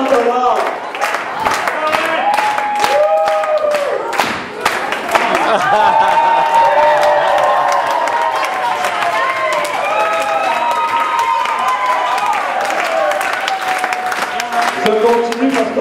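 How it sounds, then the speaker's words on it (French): Crowd applause with cheering and shouts at an outdoor charity rally for cystic fibrosis, a dense steady roar of clapping and voices that fills the whole stretch, with a voice heard briefly over it near the start. "Des applaudissements"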